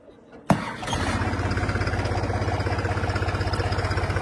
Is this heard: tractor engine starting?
yes